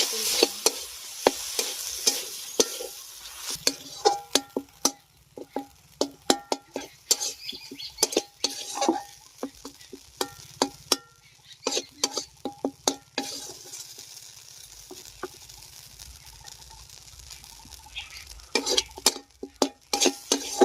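Paneer coated in turmeric sizzles in a pan while a spatula stirs and taps against the metal in an irregular rhythm of scrapes and clinks. The sound is close and runs for about twenty seconds with no talking.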